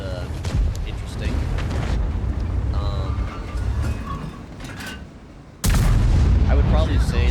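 Tank cannon fire in World of Tanks, heavy booming gunshots with a deep rumbling tail, one blast especially loud near the end, heard under someone talking.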